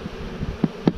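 Honey bees buzz steadily while being moved from a nuc hive into a full brood box, with a couple of soft knocks against the wood close by.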